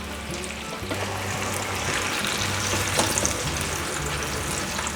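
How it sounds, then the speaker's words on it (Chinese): Pumpkin pieces deep-fry in hot oil over high heat, giving a steady, dense sizzle and bubbling that stays loud and even throughout with no voices. "最后转大火，把南瓜的表层炸至表层有呈现深的金黄色"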